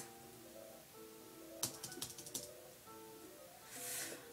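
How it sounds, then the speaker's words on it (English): A computer keyboard is pounded hard during horror game play, giving a quick burst of loud, sharp clacks in rapid succession over a quiet musical background, followed by a soft hiss. "I'm pounding the keyboard so hard"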